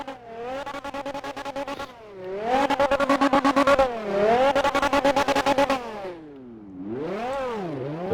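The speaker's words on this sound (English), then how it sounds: "Let me actually rev this through for you guys." A car engine in the Roblox game Fix It Up revs again and again, climbing and falling in loud, buzzy surges with a rattling stutter at the peaks, alone and close.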